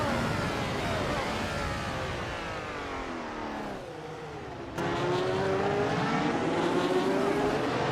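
Race cars in a video game, among them a Wolf Williams FW05, roar past with engines revving and pitch sliding as they pass. A brief dip in the noise comes before the loud, steady engine drone returns.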